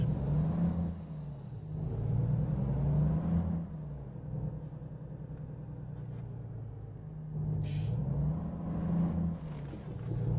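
A truck engine in American Truck Simulator hums at a low, steady rumble while driving, swelling as it accelerates and easing back, with a brief hiss partway through.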